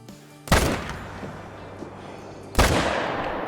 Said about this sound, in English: That was a super far shot.